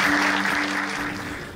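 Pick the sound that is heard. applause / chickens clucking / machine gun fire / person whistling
applause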